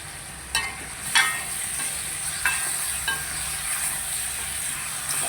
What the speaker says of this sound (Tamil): சிக்கன் கறியை கிளறி விடுவோம்